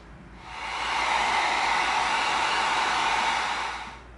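A heat gun blows a steady, hissing rush of hot air onto EVA foam for a few seconds, swelling up and fading away at the ends.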